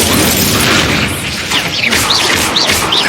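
Incendio fire spell cast in Hogwarts Legacy combat, a loud whooshing burst of flame followed by rising and falling magical whistles and crackles, with no talk.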